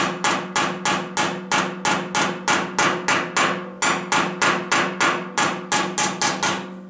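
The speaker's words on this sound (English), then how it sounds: "I got my little welder's hammer. And you can sit there and chip away at it." Welder's hammer with a chisel point chipping slag off a weld on a steel drum smoker build, striking in a steady run of about twenty sharp metallic blows, close and loud with no talking.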